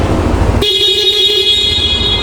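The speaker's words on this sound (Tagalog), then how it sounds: "sa busina, meron tayong stock tsaka loud" Stock horn of a Yamaha Aerox scooter sounding once close by, a steady bright electric beep that starts abruptly and holds for nearly two seconds.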